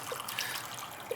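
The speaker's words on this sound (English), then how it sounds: "the diaphragm should push all the water out. You can hear it gurgling." Water gurgles out of a failed boiler expansion tank as its diaphragm pushes the water out, a soft close trickling with faint bubbly gurgles, quiet and continuous.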